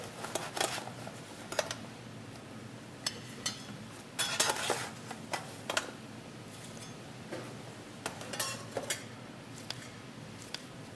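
Fried chips being scooped out for serving portions, a series of crisp rustling clatters and metallic scoop clinks in irregular bursts, fairly quiet with no talking.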